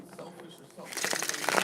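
A deck of tarot cards is riffled and shuffled close by, a rapid papery flutter that grows louder, with a person talking over it.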